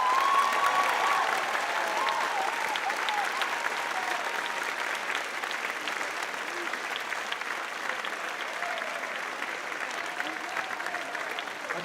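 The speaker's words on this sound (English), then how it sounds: "Let's give them a warm round of applause." Sustained audience applause fills a jazz prize-giving for the 43rd National Youth Jazz Competition, steady dense clapping from a large crowd throughout, with faint voices underneath.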